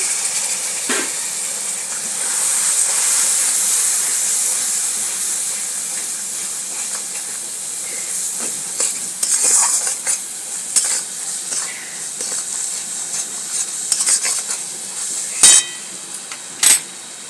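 Bata fish curry being stir-fried in a pan with a splash of water, giving a steady sizzle and hiss with scattered scraping and clinking of the spatula, louder bursts near the end.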